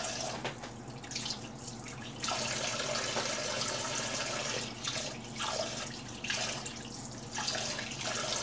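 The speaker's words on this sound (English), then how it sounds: "we're going to take out the parsley and the spinach, and I'm going to rinse it and then dry it on here" Parsley and spinach are rinsed under a running kitchen tap, a steady splashing stream broken by brief gaps and shifts as the leaves move through the water, close and fairly quiet with no talk.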